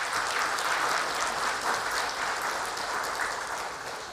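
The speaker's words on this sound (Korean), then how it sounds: "어디 있든지 한번 박수 한번 드리십시오" A church congregation at a Korean Sunday service gives a warm round of applause to thank volunteers, even continuous clapping across the room that stays fairly soft and tapers near the end.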